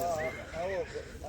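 A powerful pure Sindhi breed horse whinnies in a series of wavering, pitch-bending neighs, close and moderately loud, with faint background noise and no clear hoofbeats.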